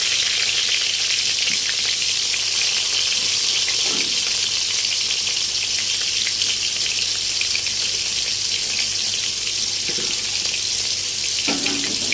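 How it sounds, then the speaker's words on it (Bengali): Salted, turmeric-coated potatoes frying in hot oil, a loud, steady hissing sizzle that runs the whole time with a few faint clinks of a utensil against the pan. "তেল গরম হয়ে গেছে, নুন হলুদ মাখানো আলুগুলো ছেড়ে দেবো।"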